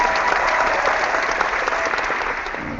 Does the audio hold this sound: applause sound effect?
yes